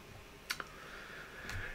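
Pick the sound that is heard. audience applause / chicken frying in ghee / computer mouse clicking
computer mouse clicking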